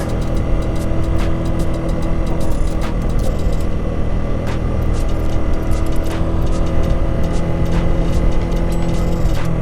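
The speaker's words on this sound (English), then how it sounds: "Change gear down, preparing to stop at the top." A motorcycle engine drones steadily and loudly throughout as the rider shifts down toward a stop, its hum blended with constant wind and road rush and no clear pauses.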